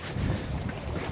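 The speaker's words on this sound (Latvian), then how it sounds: "Ir vējene." Gusty wind blows at sea from a fishing boat, a dense rushing buffet against the microphone with faint water wash underneath, steady and close throughout.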